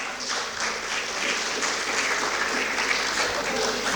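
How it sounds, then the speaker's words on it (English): Audience applause for a chief guest at a university Republic Day celebration, a full, dense and steady round of clapping from a large hall crowd, fairly loud and uninterrupted. "Please give him a big round of applause."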